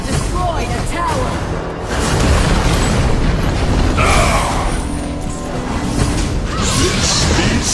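Tower destroyed in an online team battle video game, heard as heavy booming explosion and crashing effects with whooshes, loud and continuous, layered with an announcer-style voice and other game sounds.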